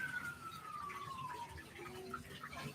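An ambulance siren passes outside a garden, faint and distant, its wailing tone sliding steadily lower against a steady background hiss.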